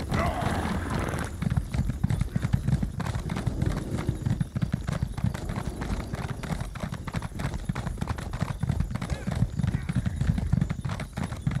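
Rhythmic clip-clop of galloping horse hooves in the video game The Elder Scrolls Online runs steadily throughout, with a horse whinny near the start, close and loud over a low rumble.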